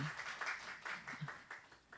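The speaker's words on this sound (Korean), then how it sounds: "환영하시는 박수로 환영해 주시기 바랍니다" A church congregation at a Korean Sunday worship service gives brief welcoming applause for two visiting missionaries, a soft, dense patter of many hands heard from a distance.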